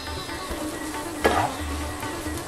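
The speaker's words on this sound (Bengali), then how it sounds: "দুধের সঙ্গে মাওয়াটাকে একটু মেশাচ্ছি" Milk being stirred into mawa (khoa) for Mathura peda in a pan, a soft scraping stir with one brief louder scrape over a faint sizzling hiss.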